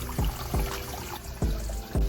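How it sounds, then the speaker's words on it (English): Small waterfall trickling in an outdoor bird aviary with water lilies at night, a steady close wash of splashing water broken by a few louder, regularly spaced gurgling drops. "this beautiful water lilies and a waterfall"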